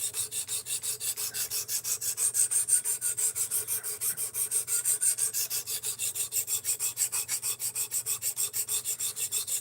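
A knife blade being sharpened on a Work Sharp Precision Adjust Professional: a steady, rhythmic series of rasping strokes, back and forth at an even pace, close and fairly loud, with no voices.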